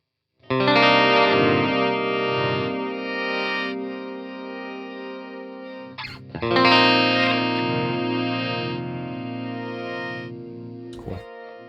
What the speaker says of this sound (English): The glitch, I think, is probably one of my more favorite parts of this plugin.